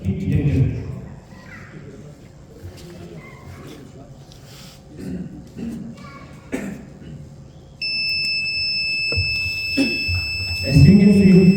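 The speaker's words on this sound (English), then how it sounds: "when heat detector detects heat, then indicator will indicate and buzzer will produce sound and alert people" A wall-mounted fire alarm buzzer in an electrician's training demonstration, triggered by a heated heat detector, starts a steady, loud electronic tone partway through and holds it to the end, over voices talking and bench noises.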